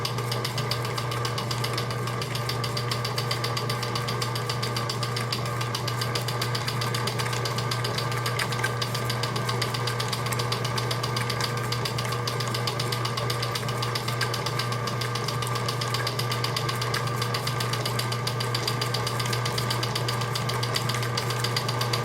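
A sewing machine runs steadily for about twenty seconds at a constant, even hum with a fine mechanical buzz, close and alone with no talking, while thread is fed from the top spool.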